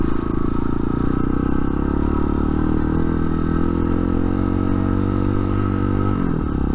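A TaoTao TBR7 motorcycle runs loudly throughout with a continuous rough clatter and scraping as it goes down, the engine drone dropping off near the end.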